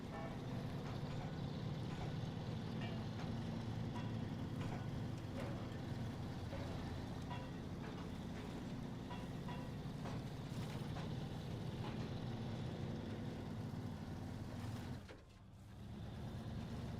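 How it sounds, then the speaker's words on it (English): A heavy truck engine drones in the off-road driving game SnowRunner, a steady low rumble held for a long stretch before dipping briefly near the end. "Engine, don't stall on me."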